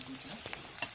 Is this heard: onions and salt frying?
yes